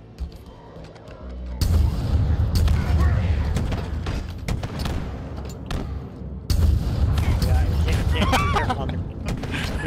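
Rocket and artillery fire in Halo Infinite on Legendary with all skulls on, with dense continuous booms and blasts at high volume, rumbling impacts layered with mechanical clatter and sharp reports, and players' voices talking over the barrage.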